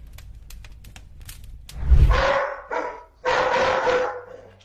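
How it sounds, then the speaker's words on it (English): A dog barks in a few loud, close bursts, the longest last, following a low thump, with no talk. "the dog started barking again"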